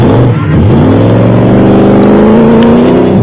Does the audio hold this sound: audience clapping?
no